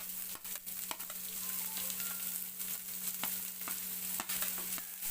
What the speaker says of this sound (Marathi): कांदा जोपर्यंत ब्राऊन होत नाही तोपर्यंत आपल्याला तेलामध्ये भाजून घ्यायचा आहे